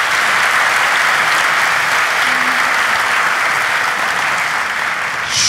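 A live studio audience at Grand Pera applauds the close of a relationship-test show with loud, continuous, evenly sustained clapping from many people, with no talk over it.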